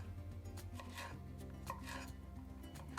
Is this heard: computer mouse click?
no